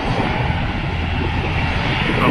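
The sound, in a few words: Jet2 passenger jet taking off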